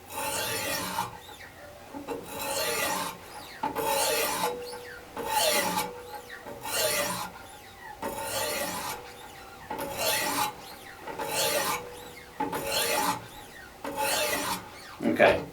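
Repeated rasping strokes of a knife blade against an abrasive stone on a Wicked Edge GO WE50 sharpener, about ten even strokes in steady rhythm, close and clear with no talking.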